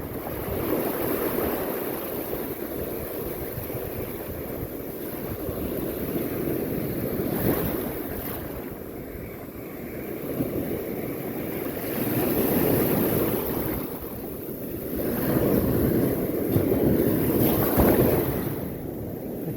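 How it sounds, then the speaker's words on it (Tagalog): Powerful sea waves surge and crash continuously during a strong northeast monsoon wind while fishing, with gusting wind buffeting the microphone and swells rising and falling in loudness. "Ang lakas kasi ng alon"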